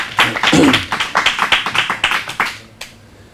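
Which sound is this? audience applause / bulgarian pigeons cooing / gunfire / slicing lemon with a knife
audience applause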